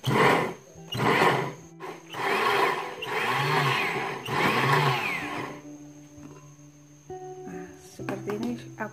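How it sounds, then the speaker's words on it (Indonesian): Old blender whirring in short bursts, pulsing on and off several times, loud and close, then trailing into quieter clatter and background sounds. "Kita blender dulu sebentar aja."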